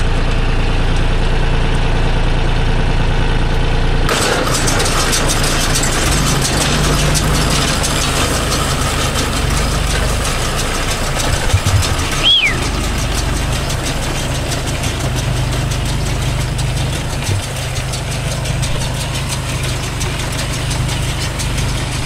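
A John Deere 5105 tractor engine runs loud and close at a steady idle, a heavy low rumble with a faint knock. A brief clatter cuts in partway through, then the engine carries on unchanged.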